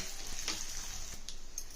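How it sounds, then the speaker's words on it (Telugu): Mustard seeds, lentils and dried red chillies sizzle in hot oil for tempering tamarind rice, a steady soft crackle with a few sharp pops, close by and without talk. "ఇప్పుడు ఈ తాలింపు గింజలు, మిరపకాయలు వేసి బాగా వేగనిస్తాం."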